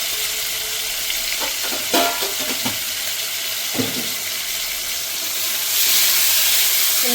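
Chicken sautéing in a pan with chili powder, a steady loud sizzle with a few sharp stirring scrapes and a brief burst of louder frying toward the end.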